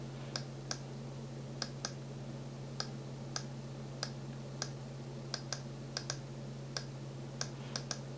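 Sharp, dry mouse clicks repeat irregularly, about fifteen of them, close and fairly quiet over a steady low hum, during work on a handwriting-animation tutorial in After Effects; no one speaks.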